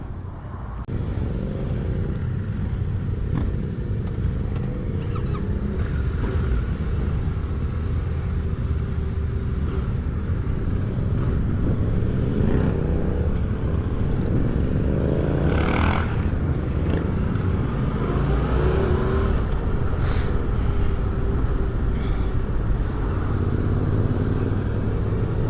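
Yamaha Tenere Rallye motorcycles setting off on an outback ride in South Australia, heard as a steady loud engine rumble with wind noise throughout, close and continuous.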